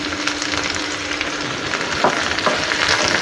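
Ridge gourd peel being roasted in oil with roasted peanuts and coriander leaves for a Kannada-style chutney, giving a steady close sizzle and crackle with a few stirring scrapes toward the end, no talk.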